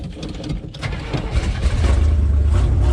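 An old Chevy 454 big block V8 in a ramp truck that sat for 27 years cranks and catches, rising into a rough, loud, low rumbling idle that swells toward the end, close by with no talking.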